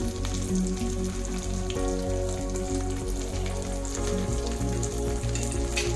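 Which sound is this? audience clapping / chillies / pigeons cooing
chillies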